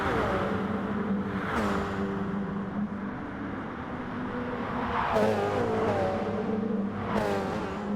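Race cars in a racing video game, a Porsche, a Toyota TS030 and an Audi R8, battle nose to tail. Their engines rev and climb in pitch, with sharp gear-shift drops and cars sweeping past.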